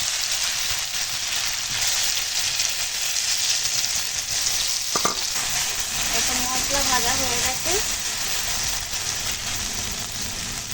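Ginger, radhuni and poppy seed paste hits hot tempering in a pan, a loud, dense, continuous hiss and sizzle with a brief clatter and a voice speaking over it.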